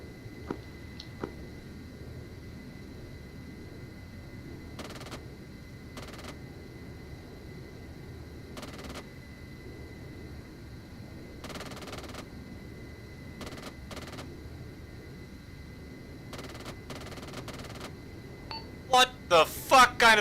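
Machine gun bursts fired during an aerial dogfight in a video game, scattered short rapid bursts over a low steady engine drone, with a cluster of louder bursts at the end.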